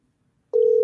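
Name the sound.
telephone dial tone while placing a call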